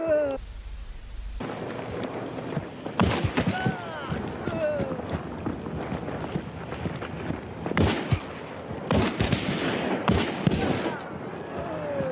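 Gunfire in the video game Hunt: Showdown 1896, with repeated loud shots and bursts spread through the clip, some sharp and close, over background game noise.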